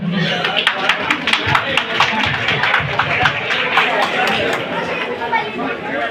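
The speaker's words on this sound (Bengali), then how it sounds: "আমরা তাকে করতালির মাধ্যমে স্বাগত জানাই" An audience at a society discussion meeting applauds to welcome a speaker, with dense, sustained clapping from many hands, loud and close, mixed with crowd chatter throughout.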